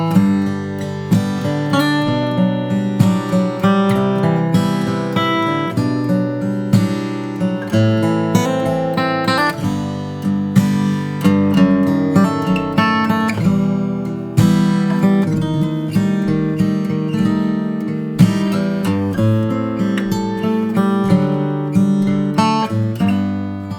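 A solo guitar plays the first A section of a song, a chord-melody arrangement with steady plucked chords and melody notes ringing clearly and close, no talking.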